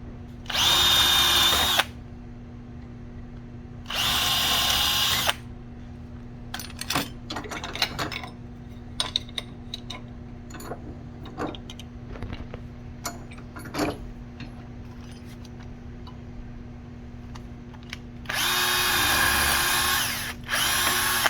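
A power drill whirs loudly in three separate bursts, with quieter clicking, tapping and metallic handling sounds in between.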